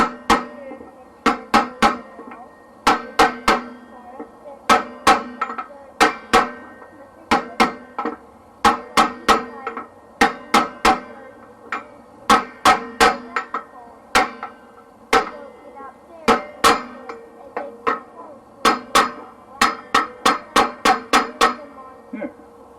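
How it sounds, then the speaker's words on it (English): A socket hammered to drive a seal into a trailer brake hub gives loud, close metallic blows in quick rhythmic bursts of several strikes, separated by short pauses. "I've got this mighty socket. It's not quite the right size, but it's close enough. It'll drive her down in there good."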